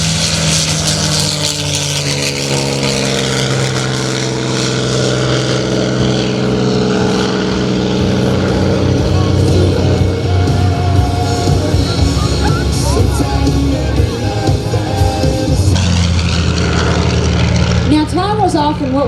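WWII warbirds, a P-40 and a B-25, fly past at an airshow with a loud, steady propeller-engine drone that swells and shifts in pitch, while a commentator talks over it.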